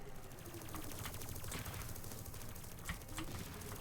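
Hovertech strafing with gunfire in the TerraTech video game, a steady run of rapid gunshot bursts over a constant mechanical hum with a few sharper cracks, no talking.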